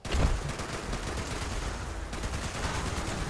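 A Bloodied Explosive .50 cal machine gun fires in the video game Fallout 76, a dense, continuous roar of rapid shots and explosive impacts blending into one steady, moderately loud barrage.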